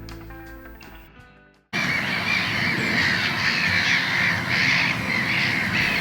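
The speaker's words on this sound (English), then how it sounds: "The birds are really noisy today, and I guess they're nesting on the island." Crows and other birds caw and squawk loudly and continuously at Carsington Water reservoir, likely nesting on an island, a dense nearby chorus following a brief quieter stretch.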